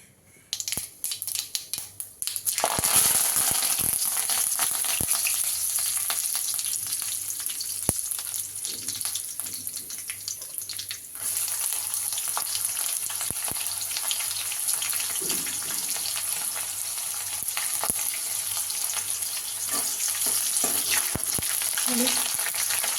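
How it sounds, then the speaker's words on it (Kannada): Mustard seeds, curry leaves and onion hit hot oil for an okra sambar tempering, giving a loud, steady close-up sizzle with scattered pops and crackles that runs throughout. "ಸಾಸಿವೆ, ಕರಿಬೇವು, ಈರುಳ್ಳಿಯನ್ನು ಹಾಕಿ ಒಗ್ಗರಣೆಯನ್ನು ಕೊಟ್ಕೊಳ್ಳಿ"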